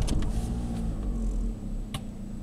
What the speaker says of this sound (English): Yeah, the click from the boot,